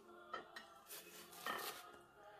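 A spatula scrapes and clinks against a pan while moving English muffin pizzas, a few quiet metallic taps and slides close by with no talk.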